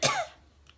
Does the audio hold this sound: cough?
yes